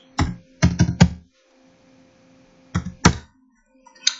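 A computer keyboard typing a terminal command: a quick cluster of four firm, close keystrokes, a pause over a faint hum, then two more solid clacks and a final tap.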